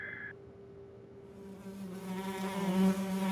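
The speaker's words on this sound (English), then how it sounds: "All the damn mosquitoes and shit." Mosquitoes whine around the recorder, a thin steady buzzing that swells louder and nearer over a few seconds after a brief tone at the start, with no voices.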